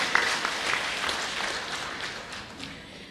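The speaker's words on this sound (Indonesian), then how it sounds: "Tepuk tangan untuk paslon." Audience applause at a televised public debate for Prabumulih mayor and deputy mayor candidates, greeting a candidate pair; a steady, moderately loud round of clapping that slowly fades over about three seconds.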